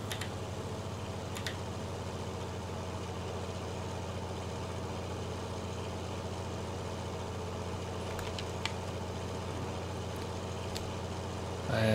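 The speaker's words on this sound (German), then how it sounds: "Es ist der größte Traktor der Welt." A huge in-game tractor engine from Farming Simulator 19 drones steadily at a low idle, with faint ticking and a slight rise at the very end, and no talking.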